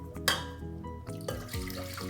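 Distilled white vinegar poured for pickling jalapeños, a brief close liquid stream with an opening splash, ringing tones from the container and a second gush near the end, no voices.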